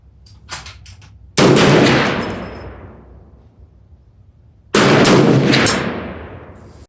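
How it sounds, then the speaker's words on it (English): Two loud, close 450 Bushmaster rifle shots fired freehand at an outdoor range, each a sharp blast followed by a long rolling echo that fades before the next. "Next, we're going to take 3 shots with 450 Bushmaster, freehand."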